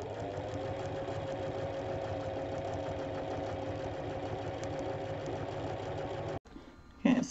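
A sewing machine running steadily through free-motion quilting stitches, a continuous close mechanical whir for about six seconds that cuts off abruptly, followed by a brief handling noise.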